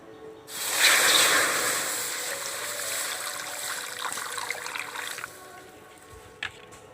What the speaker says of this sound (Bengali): এবার আমি কড়ার মধ্যে জল দিয়ে দিচ্ছি